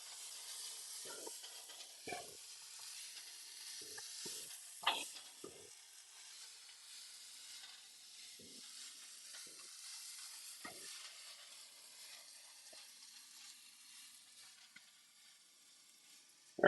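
Steak with brown sugar sizzles steadily in a pan as it browns, a continuous faint frying hiss broken by occasional soft stirring clicks and scrapes, with no talking.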